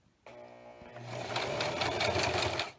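A sewing machine back stitching a home-made fabric face mask starts with a mechanical clunk, then runs as a loud, fast, steady motor whir with rapid needle chatter that speeds up before stopping abruptly.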